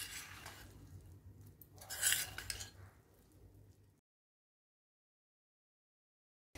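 Vermicelli upma with chopped coriander is stirred in a pan, a few light metallic clinks and scraping strokes of a spoon for about four seconds, then silence.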